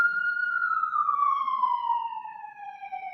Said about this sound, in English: I hear the sirens coming down my block.